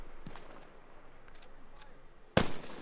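Bolt-action sniper rifle shot in Arma Reforger, a single sharp loud crack near the end after faint distant pops against quiet background.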